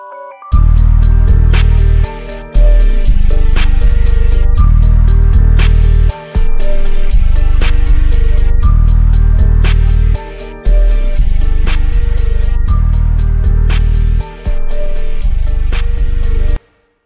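Hip-hop beat built in FL Studio in a Homixide Gang style, the hook stretched and resampled to a lower pitch as a transition: a loud, dense loop with heavy bass and regular hits, briefly dropping out every couple of seconds.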